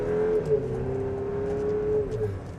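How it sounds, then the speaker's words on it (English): A 2026 Buick Enclave's 2.5-liter turbo engine pulls at full throttle from inside the cabin, a steady droning whine holding one pitch over low road rumble. "We can very easily floor it."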